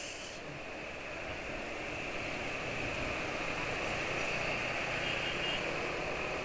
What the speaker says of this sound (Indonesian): Pada waktu mesin idle itu klotak-klotak dan getar juga